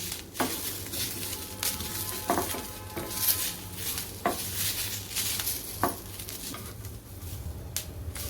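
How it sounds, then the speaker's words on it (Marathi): Dried coconut sautéed in a pan for a drumstick and potato curry, with steady scraping stirring strokes every second or two over a continuous soft sizzle, close and moderately loud. "सुकं खोबरं परतून घ्यायचं आहे चांगलं"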